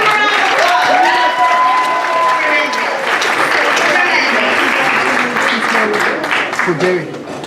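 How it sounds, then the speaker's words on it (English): Steady audience applause fills a college honor society induction ceremony for Phi Theta Kappa inductees, dense and sustained clapping throughout with a few voices and cheers mixed in. "Give them a round of applause."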